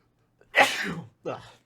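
A single loud sneeze up close, a sharp burst followed a moment later by a shorter trailing exhale, in otherwise quiet surroundings.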